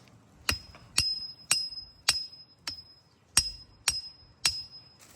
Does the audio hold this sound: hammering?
yes